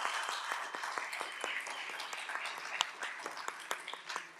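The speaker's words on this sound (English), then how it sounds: "You guys, give them a round of applause here." Audience applause for Vision Zero volunteers at a street-safety gathering, a dense sustained patter of many hands with a few sharper claps standing out, moderately near and steady throughout.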